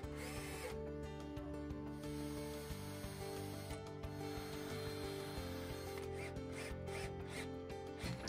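A power driver runs a screw home while a marine cooker is installed aboard a Hallberg-Rassy 312 sailboat, giving a close, steady mechanical whir with ratcheting bursts and brief pauses and no talk.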